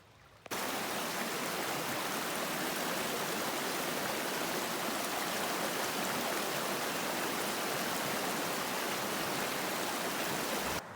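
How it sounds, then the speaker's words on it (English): River rapids on a Temagami canoe route rush with a loud, steady, broadband roar that holds at an even level throughout, with no voices. "quite a long way of roping the canoes through this river"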